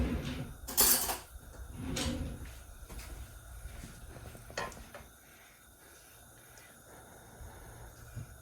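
A spoon is fetched in a home kitchen: a drawer or cupboard bangs open, cutlery clinks and rattles, then quieter handling noises follow, close and fairly faint.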